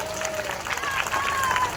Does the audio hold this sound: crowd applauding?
yes